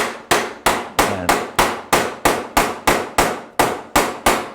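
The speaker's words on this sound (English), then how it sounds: "I whack them with a rubber hammer" A rubber hammer whacks the heel loops of a Union snowboard binding in a steady run of about fifteen loud, evenly spaced blows, each a sharp hit with a short decay, close up and with no voices.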